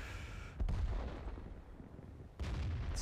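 FV304 self-propelled artillery in a tank video game on the Lakeville map fires heavy booming shots: one loud blast about a second in and another near the end, each followed by a rumbling tail, with no talking.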